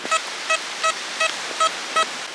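A metal detector sweeping a beach for lost coins gives six evenly spaced, bright electronic beeps over a steady hiss, loud and close with no voices.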